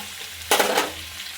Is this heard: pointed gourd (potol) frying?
yes